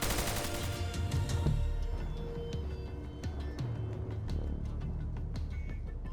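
Machine gun fire in the Arma 3 video game: dense, sustained bursts of automatic shots crackling steadily over a continuous rumbling battlefield backdrop, with no talking.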